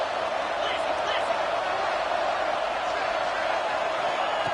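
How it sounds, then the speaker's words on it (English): A stadium crowd at a football game gives off a dense, steady roar of cheering and noise, loud and unbroken throughout. "It's early, but this crowd is fired up. Listen to this noise here."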